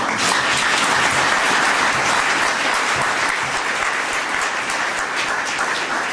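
A church congregation applauding together, sustained and loud, a dense wash of clapping that holds steady throughout.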